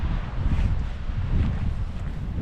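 Outdoors in the Lake District, gusty wind buffets the microphone with a deep, continuous rumble that holds steady throughout, with no talking over it.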